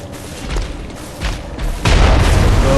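An enemy cannon in Bloodborne fires: a loud, booming blast at the end follows a couple of duller thumps and rumbling, with no talk over it.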